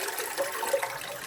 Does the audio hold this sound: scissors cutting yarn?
no